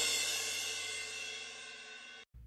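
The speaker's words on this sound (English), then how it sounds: "And then more of a real sounding crash." A realistic crash cymbal from a pop-country drum programming setup rings out alone: one bright, loud wash that decays slowly over about two seconds before cutting off abruptly.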